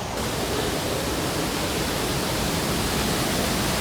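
The waterfall at Jajce in Bosnia and Herzegovina roars as a loud, constant broadband rush of falling water with no break or other sound.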